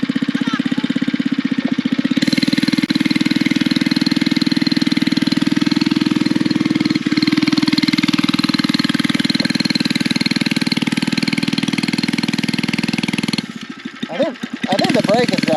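The small engine of a gas-powered Power Wheels ride-on car runs with a steady, loud, buzzing drone close by, wavering slightly before trailing off near the end, with people talking over it.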